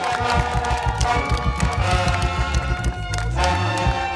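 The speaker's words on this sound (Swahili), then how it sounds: "Makofi mengi na vigelegele." A crowd at an outdoor government event in Tanzania breaks into steady rhythmic applause with ululation, loud and sustained, with some voices mixed in.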